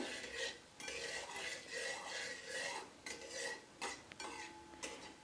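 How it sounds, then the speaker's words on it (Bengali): Panch phoron seeds stirred and fried for a few seconds in hot oil over low heat: a steady soft scraping of a spoon against the pan with light clinks, fairly quiet and continuous. "এটা আমি কয়েক সেকেন্ড নেড়ে ভেজে নিচ্ছি"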